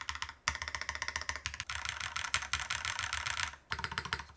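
Fast typing on a Wing60 mechanical keyboard, a dense run of close key clacks with a few deeper spacebar thuds and brief pauses between bursts, no voices.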